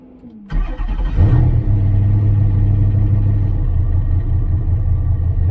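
Ultima Evolution engine on a dyno restarting after a brief starter whir, catching with a quick rev, then settling into a steady, loud, close idle that drones on alone.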